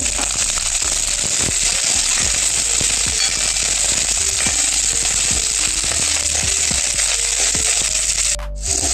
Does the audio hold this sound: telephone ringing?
no